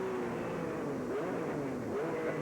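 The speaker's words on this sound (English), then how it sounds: "the Ferrari comes screaming by" A Ferrari sports racing car in a 2000 Grand Am race at Mid-Ohio roars past at full throttle, its engine note sweeping and shifting in pitch while loud continuous engine noise fills the whole stretch, with no talk over it.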